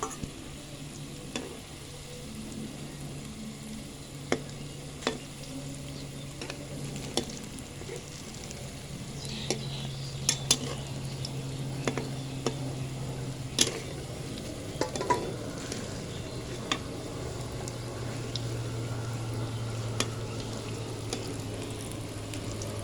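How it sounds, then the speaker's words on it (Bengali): Lentil and cabbage fritters fry in hot oil, a steady close sizzle with occasional sharp clicks and pops from the pan, running throughout without talk. "এবং পর্যায়ক্রমে একটা একটা করে ভেজে নেওয়া হবে।"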